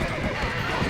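A horse whinnies with a close, busy clatter of hooves during a shootout in the Red Dead Redemption video game, while people talk loudly over it.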